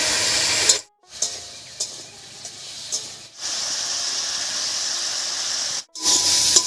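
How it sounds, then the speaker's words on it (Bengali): Chopped mountain squash (chayote) fries in a wok with turmeric and salt, a strong, hissing sizzle broken by a couple of brief silent gaps. No voices. "এই অবস্থায় কোয়াশটাকে একটু ভাজা ভাজা মতো করে নেব"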